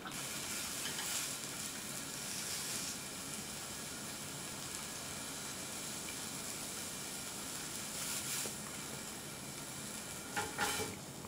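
Liver grilling gives a steady, dense sizzle that hisses without break for about eleven seconds, with a few louder crackles near the end and no talk.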